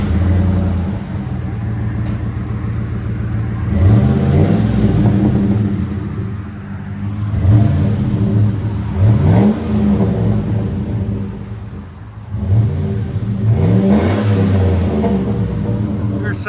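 2008 GMC Sierra pickup with a 4.8L V8 and Flowmaster 40 Series exhaust, otherwise stock, revving repeatedly in loud, deep bursts that rise and fall several times, close by, with a voice speaking briefly.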